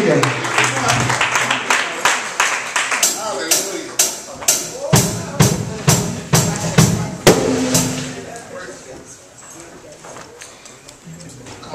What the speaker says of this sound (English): give God some Holy Ghost praise and noise in this place